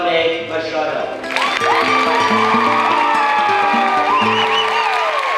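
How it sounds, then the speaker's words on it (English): An audience at an Arabian horse show cheers and claps loudly for a Brazilian horse trainer, whoops and shouts rising over dense applause, while a voice carries on over the crowd. "Support us in giving him a round of applause"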